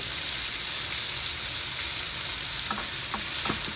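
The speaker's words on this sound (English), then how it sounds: "we're gonna use the same oil and the little bits that is in the pan to start our fried rice off" Hot oil left from frying shrimp sizzles in a pan at the start of Guyanese-style shrimp fried rice, a dense, loud, continuous hiss with a few light utensil taps near the end.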